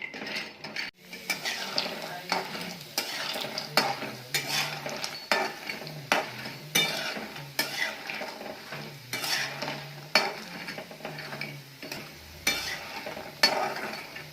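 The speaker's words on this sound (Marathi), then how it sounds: "थोडेसे भाजून घ्यायचे मग भाजी बनवायची" Lentil sandge, dumplings made from a mix of moth bean and green moong dal, being roasted and stirred in a pan for curry: repeated close scraping and clinking strokes of a spoon against the pan over a soft sizzle, steady throughout with no talk.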